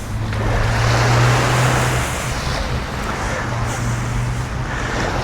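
Broad, steady surf washing onto a beach, a continuous rushing roar with a low hum running through parts of it.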